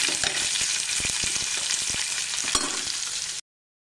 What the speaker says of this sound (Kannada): ಈರುಳ್ಳಿ ಚೆನ್ನಾಗಿ ಫ್ರೈ ಆಗಬೇಕು, ಕಂದು ಬಣ್ಣ ಬರುವವರೆಗೆ